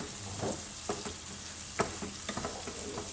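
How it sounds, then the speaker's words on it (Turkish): Onions and peppers fry in a pan for menemen, a steady hiss of sizzling broken by soft scrapes of stirring. "şimdi şöyle soğanım ve biberim güzelce kavruldu"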